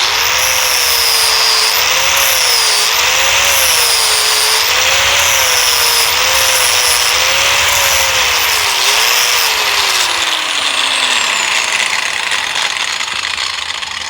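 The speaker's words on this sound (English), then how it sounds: "So I'm just gonna take her down to there with my flapper" A flap disc grinder works a steel bar flat with a loud, continuous high whine that wavers as pressure shifts, then winds down near the end.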